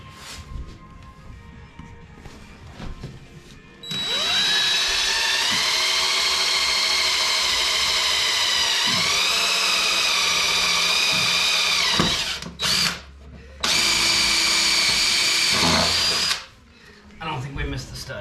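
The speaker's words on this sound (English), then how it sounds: "I'm going to drill these 2 holes 12¼ inches apart" A power drill bores two holes through a wall for a water heater installation, whining loudly at steady speed for several seconds, pausing briefly, then running again before stopping.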